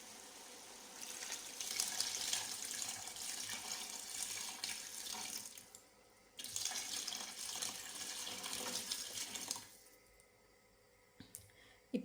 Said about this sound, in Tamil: ஸோ நான் இப்போ இதில் வந்து 5 டம்ளர் தண்ணி ஊற்றுறேன்.